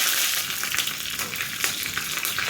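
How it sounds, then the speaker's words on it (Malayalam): Curry leaves sizzling in hot oil after mustard seeds have popped, a steady close hiss with crackle that runs the full length, no voices over it, for a tempering poured onto a yellow cucumber curry. "ഇതിലേക്ക് നമ്മൾ എടുത്ത് വെച്ചിട്ട് കറിവേപ്പില ഇട്ട് കൊടുക്കാം"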